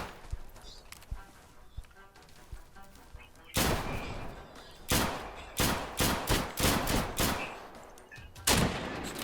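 Gunfire in the survival shooter game Deadside: loud, sharp shots crack out close by, first a single report, then a rapid cluster of bursts and a final volley after quieter background rumble.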